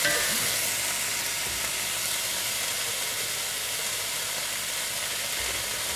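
Food sizzling in a pan after paprika is added, a steady close hiss and crackle that runs evenly throughout, with no voices over it.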